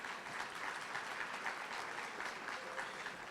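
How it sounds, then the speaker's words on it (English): Distant, fairly quiet applause from a banquet audience honoring the event committee, a steady wash of many hands clapping throughout. "Give them a round of applause."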